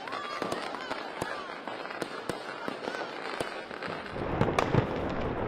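Fireworks burst and crackle during a New Year's Eve celebration, with many sharp pops tumbling over one another against a dense, continuous crackling roar. It grows busier and louder toward the end, and a faint voice sits under the noise.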